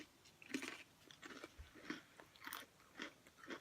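Thin Parmesan Herb Flipsides pretzel crackers bitten and crunched up close, several sharp crisp bites spaced about a second apart with soft chewing between them, no talking.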